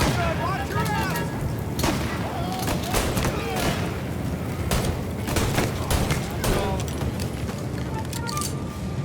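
Shotgun blasts from Mafia Definitive Edition, a 1930s crime game, crack out in a busy firefight, several sharp booms scattered among game voices and background action.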